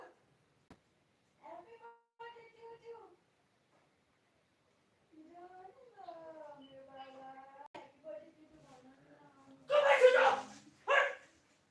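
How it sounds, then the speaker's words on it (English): A dog barks and whimpers in short, spaced bursts from a distance, with a couple of louder, harsher barks toward the end. "somebody's barking out there. Is that a human or an animal? That's animal."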